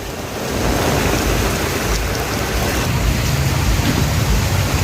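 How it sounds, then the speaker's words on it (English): Heavy rain pours down in Mombasa, a dense, steady roar of falling water hitting surfaces close by, sustained and loud throughout with no other distinct sounds. "it has just been raining for, I guess, less than 30 minutes"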